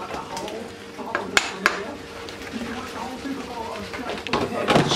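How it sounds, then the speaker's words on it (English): Cooked pasta being drained for a bolognaise bake, heard as clattering pot and metal clinks with running, splashing water, a few sharp knocks standing out over steady kitchen noise. "I'm just going to take my pasta off, and I'm going to drain it"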